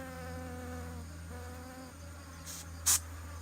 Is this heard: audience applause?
no